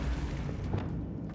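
Bombarda spell explosion in the video game Hogwarts Legacy, a short low boom rumbling out over a second before a sharp burst at the end, no voices.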